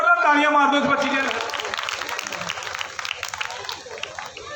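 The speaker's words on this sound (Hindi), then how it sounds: "जोरदार तालियां मार दो इस बच्ची के।" An audience claps loudly for a performer at an outdoor Ramleela staging in Railway Colony, Jalandhar; a voice comes first over a microphone, then a broad crowd of hands breaks out and carries on for several seconds before slowly thinning.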